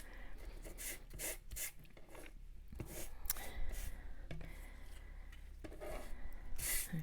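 Repeated rubbing strokes on a small coloured paper card piece during card-making, faint and close, with soft scratchy bursts and light taps at an uneven rhythm.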